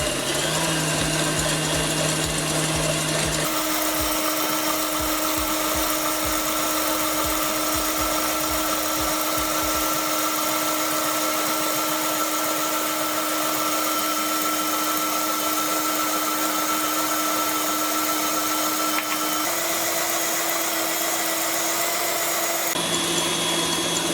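An electric mixer beats butterscotch pie filling while sugar is slowly added, its motor holding a steady, close whir and drone for the whole stretch, with no talk.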